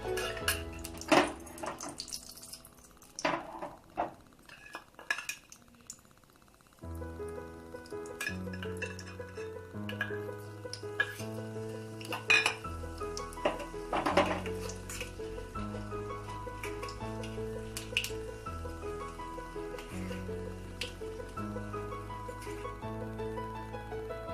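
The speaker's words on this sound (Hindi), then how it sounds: "इसमें तड़का लगाएंगे" Sizzling and crackling from a hot pan as spices are tempered for cauliflower snacks, with light clinks of utensils and metallic taps throughout.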